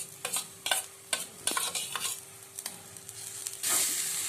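Grated coconut and chana dal roasting in ghee in a pan, a soft sizzle under repeated scraping stirs that come in short bursts, close but fairly quiet, rising to a brighter hiss at the end.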